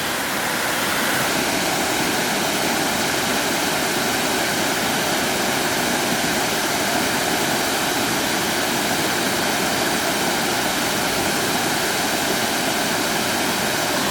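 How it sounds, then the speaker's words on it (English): Continuous roar of a broad river waterfall stretching across a natural swimming area at Praia Fluvial Vimieiro, Portugal: loud, even, close rushing water with no pauses or voices over its whole length. "This long, beautiful waterfall here, leading all the way across."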